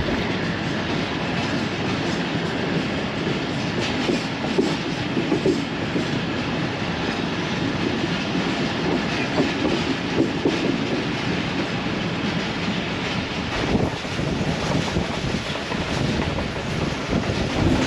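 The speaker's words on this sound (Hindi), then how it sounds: "पंद्रह मिनट के स्टॉप के बाद ट्रेन गुजरात रेलवे स्टेशन से निकल चुकी है" Pakistan Railways Awam Express train running along the track, a steady loud rumble and rattle of wheels and carriages with faint clickety-clack and wind buffeting, continuous throughout.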